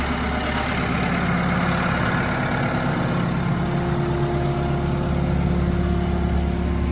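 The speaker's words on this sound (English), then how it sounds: "Look at this tractor." A Bobcat tractor engine idles close by in a steady, even rumble with a faint mechanical whine, continuous and unchanging with no talk over it.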